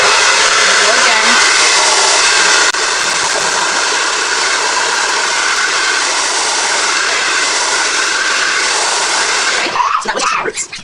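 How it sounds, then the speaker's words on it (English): A handheld hair dryer blow-drying curly hair roars loudly and steadily up close for about ten seconds, then cuts off with a few rustles. "so we can get that sleek blow dry we're looking for"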